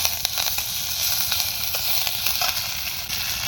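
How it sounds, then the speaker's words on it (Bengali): Bay leaf, curry leaf and dried red chilli frying lightly in hot oil, giving a continuous bright sizzle with scattered small pops and crackles, close and fairly loud throughout with no voices. "আর তেজপাতা দিলাম একটা কারি পাতা দিয়ে দিলাম হালকা করে একটু ভেজে নেবো এগুলো"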